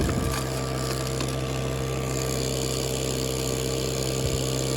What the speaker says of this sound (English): One thing about these type of a blower machines, you can still kind of run semi-damp dirt material through here